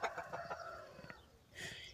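A young hen clucks loudly after laying an egg, a burst of rapid cackling calls up close followed by a brief pause and another higher squawk.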